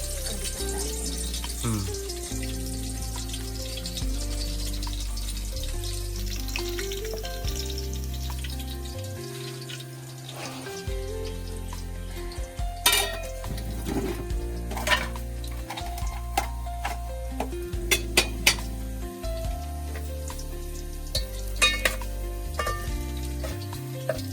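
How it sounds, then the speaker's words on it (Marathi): Garlic dropped into hot oil for a crab curry, a close sizzle with stirring clatter and occasional sharp utensil knocks, joined by running water and some background tones. "तेल गरम झालं की आपण त्यात लसूण टाकायचे."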